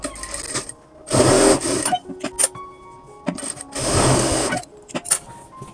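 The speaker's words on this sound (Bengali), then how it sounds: "এখানে সেন্টার ঠিক রেখে উপর থেকে হাফ ইঞ্চি পরিমাণে সেলাই প্লাস ধরে সেলাই দেব" A sewing machine stitching churidar pyjama fabric runs in two loud, steady bursts of about a second each, separated by quieter clicks and handling of the cloth, with no talk.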